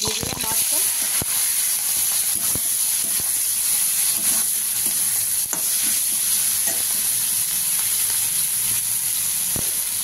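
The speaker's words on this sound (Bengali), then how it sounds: "তেলটা গরম হয়ে গেছে, আমি দিয়ে দিলাম মাছটা।" Crab fish frying in hot oil in a pan, a loud continuous sizzle and hiss with occasional sharp clicks of stirring, close up and steady throughout, with no speech.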